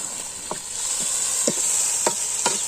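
Pork cooks with tomato and potato in a pan, Assamese style, giving a steady, even sizzle broken by a few soft scraping stirs.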